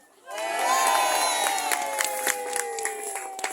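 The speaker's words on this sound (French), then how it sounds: "Imaginons qu'un message suscite chez vous l'approbation et les applaudissements." An audience at a talk by a town crier in Saillans bursts into loud cheering and whooping, many voices rising together and then holding a sustained, excited roar.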